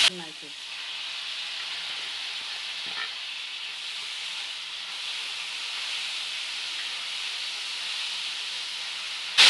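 Onions frying in hot oil for mutton dabba gosht, a loud, steady hiss and sizzle from the pan that holds evenly from start to finish, close and continuous.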